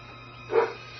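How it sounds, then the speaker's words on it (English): A neighbour's dog lets out a single short, muffled bark at a distance, heard over a quiet indoor background hum with no talking. "excuse my dog's barking"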